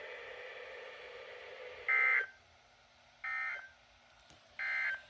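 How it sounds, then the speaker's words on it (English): A NOAA weather radio warning alarm tone sounds during an EAS weekly test as three short, loud electronic tone bursts, evenly spaced over a faint broadcast hiss. "the National Weather Service has just activated the public warning alarm tone in the test"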